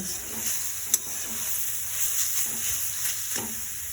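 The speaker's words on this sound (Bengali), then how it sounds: "একেও আবার এর সঙ্গে কিছুক্ষণ নেড়ে চেড়ে নেব।" Semolina being stirred into simmering carrot payesh in a pan: a steady soft bubbling hiss with a few spoon scrapes and one sharp clink against the pan, no talking.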